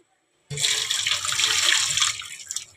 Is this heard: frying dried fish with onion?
no